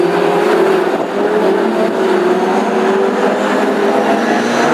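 Classic hot rod race cars circle the track at Northampton in a heat, their engines a steady, loud, continuous roar with a sustained buzzing drone and no pause.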